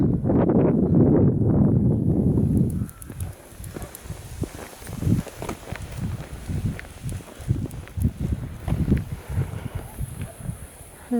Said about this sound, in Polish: I wiatr też się trochę zerwał.